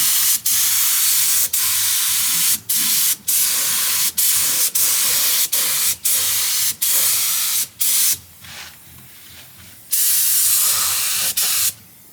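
A paint spray gun coating a truck frame hisses loudly and close in long steady blasts, broken by short gaps where the trigger is released, with one longer quieter pause near the end.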